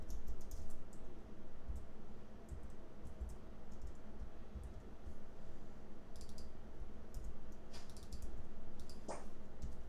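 Sparse, faint clicks from a computer mouse or keyboard at a desk, scattered irregularly over a quiet room hum with no talking.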